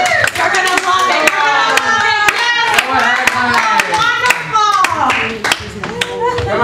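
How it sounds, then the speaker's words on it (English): Audience applause at a live game show, a dense run of claps that continues steadily with some sharp individual claps and swells, fairly close and loud, with faint voices mixed in. "Let's give her a round of applause"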